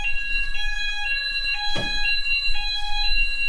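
A building fire alarm panel sounds, a loud, evenly pulsing electronic tone repeating about twice a second, with a single dull knock partway through.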